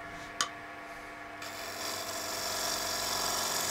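Steady abrasive rasp of a lathe tool's bevel riding against wood while turning a darning mushroom, a continuous whirring scrape that grows slightly louder, after a single sharp tick.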